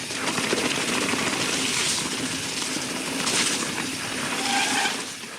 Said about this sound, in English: Listen for the interaction between tire and water.